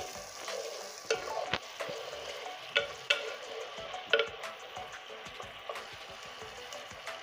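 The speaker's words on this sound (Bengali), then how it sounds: "একদম মশলাটা ভাজা ভাজা হয়ে গিয়েছে।" Mustard spice paste fries in oil with a soft, steady sizzle, broken by sharp scraping and clinking strokes of a spoon stirring against the pan, close and fairly quiet with no talk.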